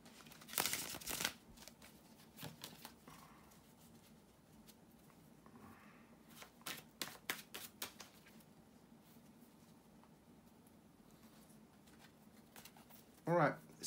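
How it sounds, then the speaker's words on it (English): A deck of tarot cards is shuffled in two short, crisp bursts of papery riffling, separated by quieter handling and soft rustles, close and fairly faint in a quiet room. "bear with me a second, guys, to shuffle the tarot cards."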